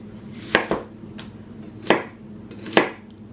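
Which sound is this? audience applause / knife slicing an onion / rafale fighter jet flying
knife slicing an onion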